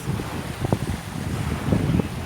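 Wind buffets the microphone on a seaside beach, a steady low rumble with gusty swells throughout, loud and close, with faint surf beneath and no talking.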